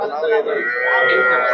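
A second-calving Jersey cow moos loudly and steadily at a busy weekly cattle market, one long drawn-out low call filling the moment, with faint crowd murmur behind it.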